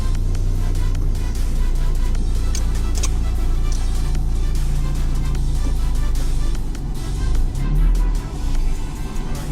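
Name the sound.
car driving on a test drive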